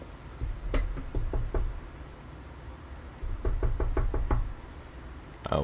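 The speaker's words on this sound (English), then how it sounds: "Sounds like knocking." In the video game The Stanley Parable, sharp knocks on a door come in two bursts of rapid raps, loud and near, with no voices.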